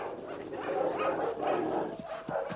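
Several dogs bark and whimper in a drama scene, with yips and whines overlapping in a continuous, fairly close commotion.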